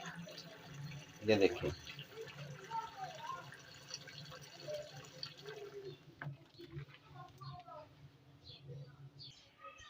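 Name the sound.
pouring milk soda drink into a jug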